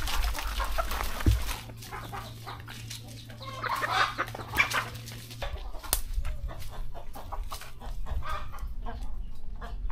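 Chickens kept behind a house in Cambodia, scattered clucks and short calls at middle distance over a low background hum, with occasional louder nearby notes.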